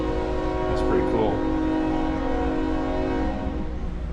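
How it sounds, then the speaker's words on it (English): A train rumbles past nearby at an antique threshing bee, with a sustained low roar and a horn sounding, steady and loud throughout. "There's a train coming by."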